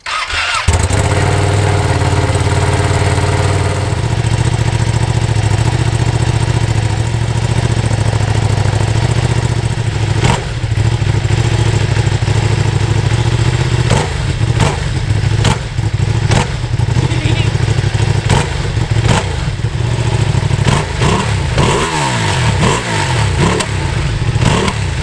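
A Ducati twin motorcycle engine starting and idling with a deep, even throb, then blipped through several sharp revs that rise and fall, loud and close with no talking.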